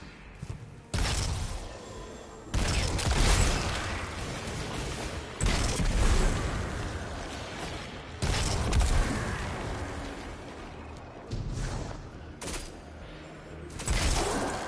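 Hand cannon gunfire in a first-person shooter video game, with loud repeated shots arriving in bursts of a few seconds each, separated by short lulls and trailing game noise.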